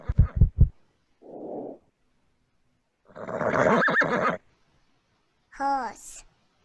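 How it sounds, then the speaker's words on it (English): A horse neighs from the Peekaboo Barn animal app, a brief whinny after a few short knocking taps, with a brief spoken word and a short rattling flutter between. "Horse."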